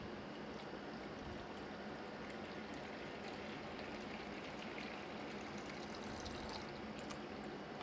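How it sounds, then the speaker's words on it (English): Evaporated milk is poured into a mixing bowl in a steady, continuous splashing stream that runs unbroken and fairly close from start to finish. "I have some evaporated milk that we're gonna pour in."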